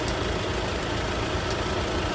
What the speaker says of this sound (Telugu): ఇంజన్ మాత్రం చాలా సైలెంట్ ఉందండి